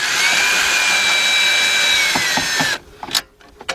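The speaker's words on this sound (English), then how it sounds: "I'm using my 10mm deep with my cordless drill." A cordless drill with a 10mm deep socket whines steadily for a few seconds driving a bolt on a 1999 Porsche Boxster, its pitch rising slightly, then stops, followed by a few clinks and clicks.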